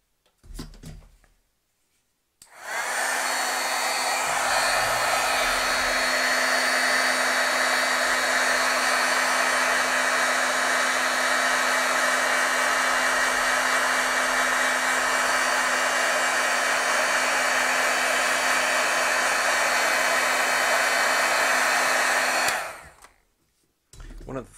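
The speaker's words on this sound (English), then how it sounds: "let's heat set this" A heat tool blows a steady, even whoosh for about twenty seconds while it heat-sets stamped ink, switching on after a brief silence and cutting off near the end.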